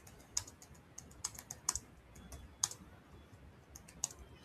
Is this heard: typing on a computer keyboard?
yes